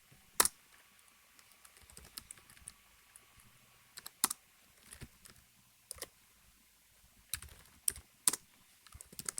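Code being typed on a computer keyboard, with scattered, irregular clicks and short bursts of keystrokes, fairly close and clear, pausing between clusters, no talking.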